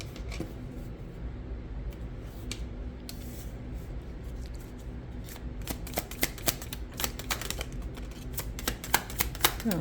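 Tarot cards being shuffled by hand, a steady close riffle and rustle that grows into sharper, rapid snapping clicks toward the end.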